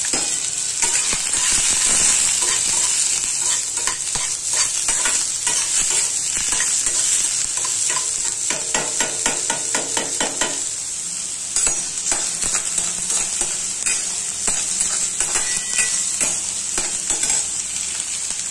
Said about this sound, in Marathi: चांगला व्यवस्थित भाजून द्यायचा हा कांदा